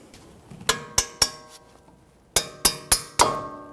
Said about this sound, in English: I'm just going to take a little hammer and give those a little tap.